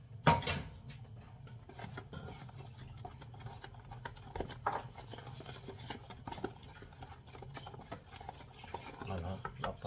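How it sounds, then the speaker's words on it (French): A spoon stirs a milk and vanilla mixture in a saucepan, with soft repeated scraping and occasional clinks against the pan, moderately close, no talk. "Et quand il est tiède, mettre le mélange et la vanille. Il faudra mélanger."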